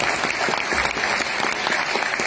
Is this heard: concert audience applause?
yes